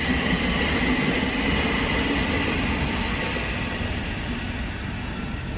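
An LNER Azuma train passes through Hitchin station with a loud, continuous rumble and rush of wheels that holds steady throughout and fades only slightly at the end.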